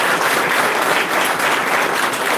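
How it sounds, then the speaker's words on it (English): Applause from a clinical toxicology workshop audience as doctors are introduced: dense, steady clapping filling the room at an even loudness for the whole moment, with no voices standing out. "Please clap for them."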